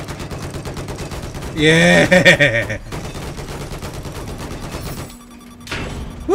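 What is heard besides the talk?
machine gun fire in Battlefield video game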